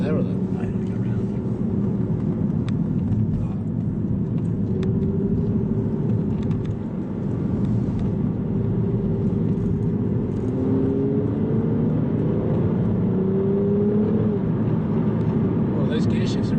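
Aston Martin Virage accelerating with quick single-clutch gear shifts, a steady engine drone from inside the car that rises in pitch and drops back at each change, with people talking over it.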